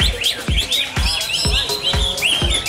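A green leafbird sings at a bird singing contest in Cikeas, Bogor, pouring out loud, fast, continuous chirps and whistled phrases over regular low thumps, with busy contest noise behind.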